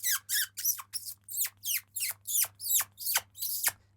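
Human lip squeak imitating a mouse to call foxes: about ten sharp, high-pitched squeaks in a steady rhythm, each sliding downward, close and clear over a low steady hum.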